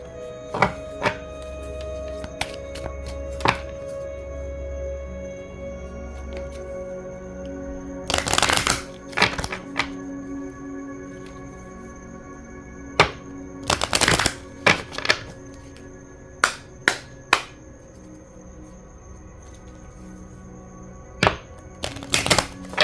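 A deck of tarot cards is shuffled close up in several quick riffling bursts, with sharp card snaps and taps between quieter pauses.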